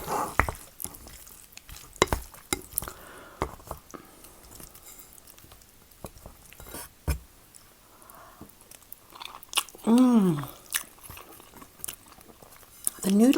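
Close, wet chewing and biting of spicy tomato Spam ramen noodles, with crunchy bites and slurps coming in irregular bursts, and a louder slurping stretch partway through.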